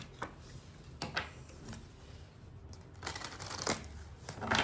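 A tarot card is slid and drawn from a deck, with a few soft papery flicks and shuffling rustles close by, quiet and alone without speech.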